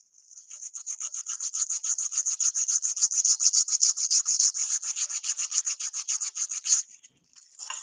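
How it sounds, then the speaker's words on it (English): Rapid, even sanding strokes rasp back and forth close by on a 3D print, around thirty in a row, then stop abruptly. "Hear no complaints about the sanding"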